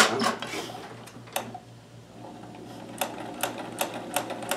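A Kenmore Super High Shank sewing machine with a free motion hopping foot stitches in short, uneven runs of quick tapping, close and moderately loud, with a steady low hum beneath and a brief pause midway.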